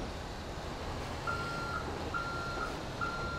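Tow truck backing up in GTA V, its reversing alarm giving five evenly spaced electronic beeps over a steady engine rumble, no voices.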